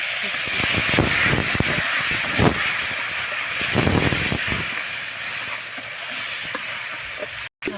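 Shrimp fries with a constant close sizzle and hiss, broken by scraping stirring sounds in the pan over a clay stove.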